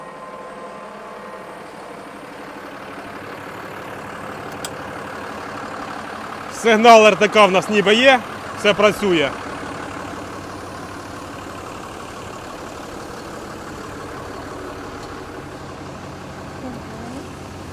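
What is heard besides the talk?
tractor engine running, heard from inside the cab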